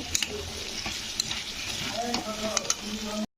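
Turmeric and chili powder are stirred through potatoes frying in a pan for aloo posto, a soft steady sizzle under scraping spoon strokes and light clinks against the metal, close and quiet, with no voices.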